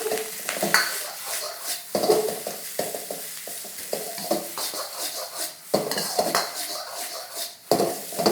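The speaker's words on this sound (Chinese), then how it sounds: "虾肉炒一炒熟了，我们就可以下饭了 大火大火先翻一翻炒。" Shrimp and rice stir-fried over high heat in a wok for pineapple fried rice, with repeated metal spatula scrapes and clanks against the pan over a constant sizzle, in uneven bursts.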